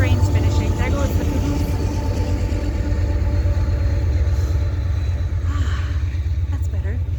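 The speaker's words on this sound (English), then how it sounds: "the train's finishing." A passing train rumbles heavily and continuously at close range, with deep low-end roar and wheel clatter holding steady throughout.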